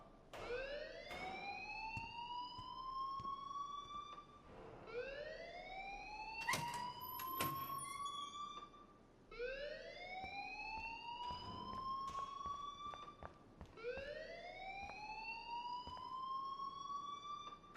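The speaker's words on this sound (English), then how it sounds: "please turn off that alarm since that's your job." A repeating rising electronic alarm from the video game Life is Strange, sweeping upward in four or five long cycles over steady loud noise, with a few sharp clicks and knocks and no talking.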